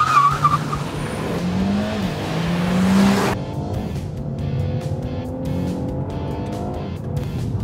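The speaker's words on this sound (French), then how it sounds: "appuyer à fond sur l'accélérateur et dès qu'on est prêt, relâcher le frein" A Renault Mégane GT 205 with EDC gearbox launches under launch control at full throttle, the engine roaring loudly before tires squeal, then the rising engine note fades as the car pulls away.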